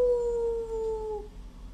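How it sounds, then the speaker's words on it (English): A jackal howls in a story sound effect: one sustained, slightly falling tone lasting just over a second, clear and alone, before fading into low background hum. "He started howling."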